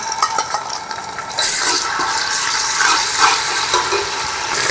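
Ground garlic hitting hot oil in a pot while Karachi-style night pulao is cooked: a loud, bright sizzle that flares after a moment and holds steady with bubbling and stirring, and no talking.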